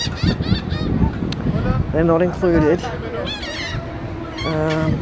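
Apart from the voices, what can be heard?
birds honking near beach shacks on Ocean Cay island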